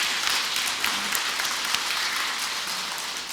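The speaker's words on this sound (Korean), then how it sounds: "큰 박수 부탁드립니다" After a lecture by a priest, held at a parish Lenten talk, a seated audience claps together. The dense, steady applause carries on evenly throughout, with no voice over it.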